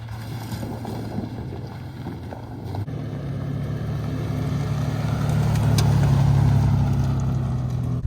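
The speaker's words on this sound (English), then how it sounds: "now we're going to drive down the road this way" A van drives along a mountain road in Colorado, its steady engine and road rumble continuous throughout and swelling slightly louder midway, with wind noise over the microphone and no talking.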